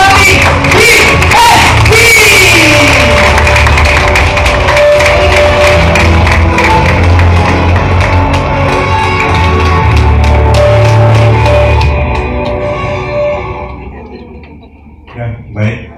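A seminar audience applauds to welcome Dr. Irfan Bukhari, with dense, loud clapping, scattered cheers and background music and voices, the clapping thinning out and fading near the end.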